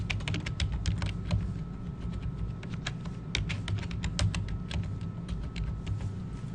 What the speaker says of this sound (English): So you're going to type in your same password again.